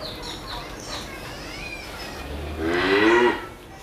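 Holstein Friesian heifers moo at a dairy farm; a single loud, drawn-out low moo rises near the end, with faint bird calls and a steady farmyard background.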